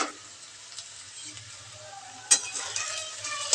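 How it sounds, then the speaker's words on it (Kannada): Okra frying and being stirred in a pan for a Karnataka-style bende kai palya, giving a steady close sizzle with scraping stirs and a sharp clatter of utensil against pan partway through. "ಫ್ರೆಂಡ್ಸ್ ನೋಡೋಣ ಇವಾಗ ಎಷ್ಟು ಫ್ರೈ ಆಗಿದೆ ಅಂತ."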